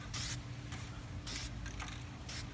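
Aerosol spray paint can releasing short bursts for a light coat, four brief hissing sprays in an irregular rhythm, close and fairly quiet, over a low steady background hum.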